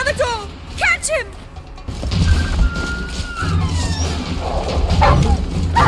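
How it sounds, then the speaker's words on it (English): Dogs bark in quick, yipping bursts during a tense town chase in the video game The Witcher 3: Wild Hunt, a few sharp calls near the start followed by busy game action and shouting voices. "Oh wait, dogs."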